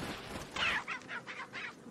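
Chickens in Resident Evil 4 give a short run of clucks in quick succession, fairly close and moderately loud, over a quiet background.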